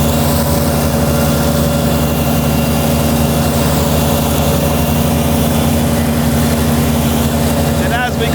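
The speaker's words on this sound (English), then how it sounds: "I have both the mid PTO running for the mower deck and the rear PTO running for the collection system." A Kubota BX compact tractor runs steadily with both mid and rear PTOs engaged, driving a mower deck and a TerraKing TKV20 leaf collection hopper, producing a constant loud engine drone with a whining fan hum throughout.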